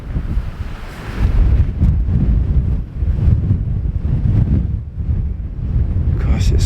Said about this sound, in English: Gosh, it's windy here.